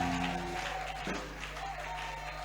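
A church congregation bursts into sustained applause to acclaim the Lord, a dense wash of clapping over a faint held tone that fades slightly toward the end.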